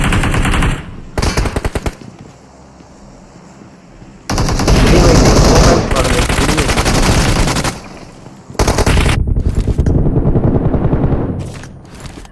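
Loud, close gunfire comes from a video game match: rapid automatic bursts break up into several long volleys with short gaps between them, and no speech comes through.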